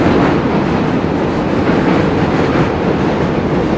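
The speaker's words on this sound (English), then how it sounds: "I can just imagine living there and hearing that train all the time" Train passing in DUMBO, New York City, a loud continuous rumbling roar with rattling wheels and clatter, close by and steady throughout, with no voices.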